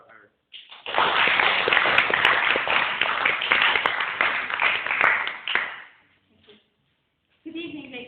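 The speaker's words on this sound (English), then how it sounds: "please join me in giving a very warm applause to our speaker" Warm audience applause for a speaker at an evening conference, a dense sustained clapping wash lasting about five seconds before fading out, followed by a voice starting to speak.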